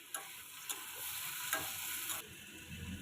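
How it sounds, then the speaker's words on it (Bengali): Potatoes frying in a pan, stirred with a utensil: a soft, steady sizzle broken by several distinct scraping strokes, quiet and close. "দিয়ে এরকম নাড়তে থাকবেন, আলুগুলো হালকা যেন ভাজা ভাজা হয়"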